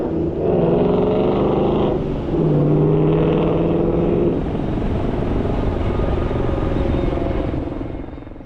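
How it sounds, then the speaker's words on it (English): A hot rod car revs and roars past on the Las Vegas Strip, its loud engine droning and climbing through gears steadily over several seconds amid street noise. "A lot of people run their hot rod cars down through here."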